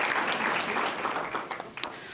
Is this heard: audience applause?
yes